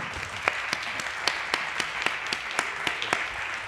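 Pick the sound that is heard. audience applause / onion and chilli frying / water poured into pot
audience applause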